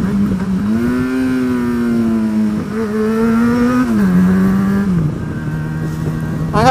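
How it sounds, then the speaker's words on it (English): A motorcycle engine brakes hard while decelerating, a close, loud drone whose pitch shifts up and down in steps as revs change, with wind rushing underneath. "I guess you can tell from the sound of the engine how hard I'm engine braking."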